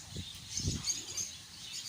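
A small bird chirping in a bird park, a few faint high tweets over soft outdoor background noise and low rumbles.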